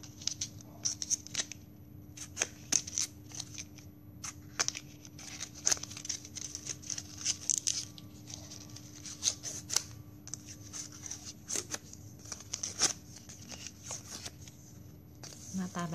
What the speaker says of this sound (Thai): ต่อไปหลอดอีกหนึ่งอันนะคะ ผ่าหลอดค่ะ